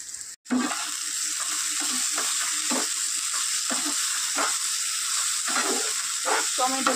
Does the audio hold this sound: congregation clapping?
no